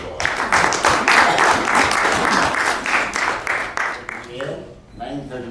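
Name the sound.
audience applause at leadership event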